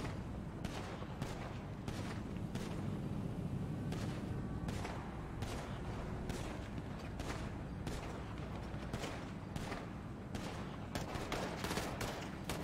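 Dense, continuous gunfire rattles through a video game shootout at a jewelry store, with repeated bursts and sharp cracks over a steady low rumble and no break in the volley.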